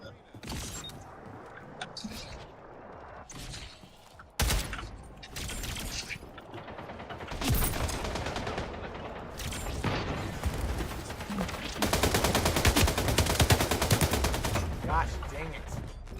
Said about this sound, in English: I unloaded my entire magazine on him.